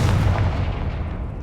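Confringo blasting spell from Hogwarts Legacy, a deep booming burst that rumbles and fades over about a second and a half, close and loud with no talk.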